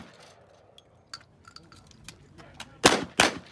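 Two loud, sharp shotgun blasts in quick succession at an outdoor cowboy action shooting stage, preceded by faint clinks and handling noises.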